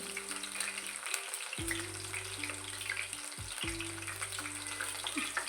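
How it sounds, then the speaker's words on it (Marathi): Capsicum slices fry until crisp in oil over a medium flame, a faint, even sizzling hiss running throughout beneath a low steady hum, with no talking. "गॅस मध्यम ठेवायचा आहे तर असे खरपूस चांगले तळून घ्यायचं आहे"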